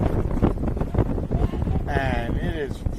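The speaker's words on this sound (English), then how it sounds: "for those at home, it's really windy here" Strong wind buffeting the microphone at an outdoor baseball game with dust blowing around, a rough, gusty rumble that runs under close-up talking the whole time.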